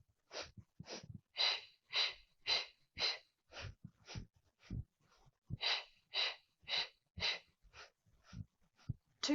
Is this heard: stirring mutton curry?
no